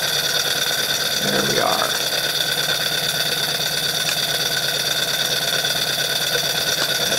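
A generator runs steadily beside a vintage Jensen 51 steam engine setup, its even mechanical drone and hum filling the space, with a brief spoken remark over it.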